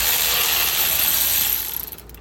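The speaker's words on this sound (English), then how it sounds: "this is a 13 millimeter socket that I'm using to take these off" A ratchet with a 13 mm socket spins bolts off near the passenger-side CV axle of a 2011 front-wheel-drive 3.6-litre Dodge Avenger, producing a dense, fast, loud buzzing click that slows into a few separate ticks at the end.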